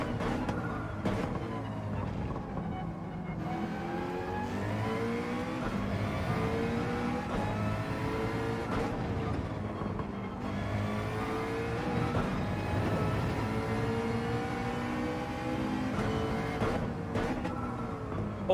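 A Porsche race car in the Gran Turismo 7 racing game runs a lap, its engine rising and falling through repeated gear changes with shifting whine and revving, loud and continuous, with no talking.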